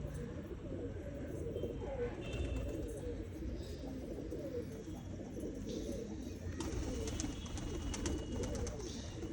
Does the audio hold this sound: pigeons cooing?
yes